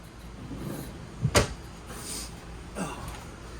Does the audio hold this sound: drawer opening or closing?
yes